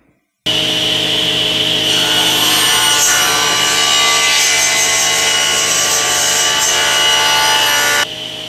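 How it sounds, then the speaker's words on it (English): A saw cuts a kerf in a wooden top clamped in a homemade tenon jig, a loud continuous rasping buzz lasting about eight seconds before stopping abruptly, with no voices. "I've got my top clamped in my homemade tenon jig, and all I need to do is make a kerf on the inside of this rabbet"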